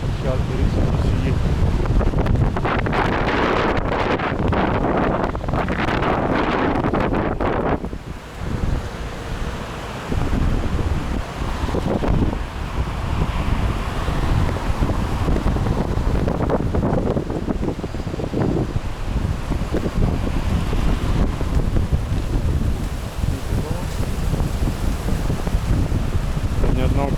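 Strong wind roars by the sea in Alanya, buffeting the microphone in a loud, continuous rumble with surf beneath, while a voice talks intermittently over it.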